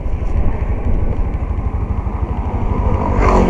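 A motorcycle engine runs steadily, a loud, close, low rumbling putter with a rhythmic chug and faint clatter that lifts slightly near the end, heard on a hot day's ride.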